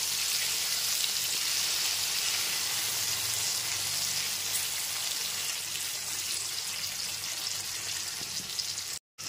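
Tomatoes with a teaspoon of salt sizzle and fry steadily over a gas flame as they are stirred in, a dense continuous crackle heard up close with no talking, cutting off abruptly at the end.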